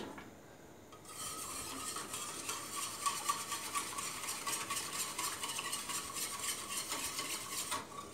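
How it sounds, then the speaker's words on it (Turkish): A spoon stirs boiled quinoa diet pudding in a pot, producing steady scraping and soft wet swishing with faint clinks. The stirring is continuous and close after a quiet first second, with no talking. "Evet, karıştırmaya devam ediyorum."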